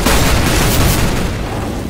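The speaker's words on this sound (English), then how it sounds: "Flashbang." A flashbang grenade goes off in CS:GO, a loud, close blast that fills the moment and trails off in a rumbling, noisy decay.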